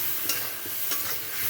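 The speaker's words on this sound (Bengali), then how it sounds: "এখন এর মধ্যে এই তুলে রাখা মশলাটা আমি দিয়ে দিব। এটাকে এখন ভালো করে কষিয়ে নিতে হবে।" Spice paste with fried potato and radish sizzles steadily in hot oil while a spoon scrapes through it in a few quick strokes, close and fairly loud, with no voices.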